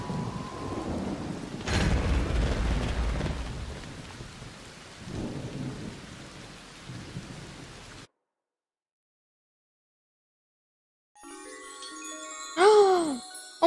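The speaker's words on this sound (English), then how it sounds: "an electromagnetic storm is currently raging over topside. Beware the lightning strikes if you're outdoors." Thunder rolls and rain from an electromagnetic storm with lightning strikes in the Arc Raiders game, a heavy rumble and downpour for several seconds, a silent gap, then a sharp electric strike with a rising whine.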